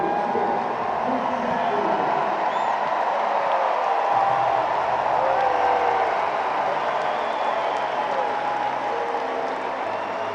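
A large US Open tennis crowd at the 2024 semifinal applauds Jack Draper as he leaves the court. The dense clapping and cheering roll on steadily for the whole stretch and stay loud and close throughout.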